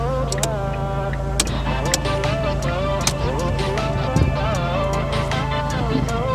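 Ford Fiesta Mk6 TDCi diesel car fitted with a Focus RS intercooler pulling away for a drive, a steady close engine drone with harmonic whine throughout and a brief knock partway, no talk.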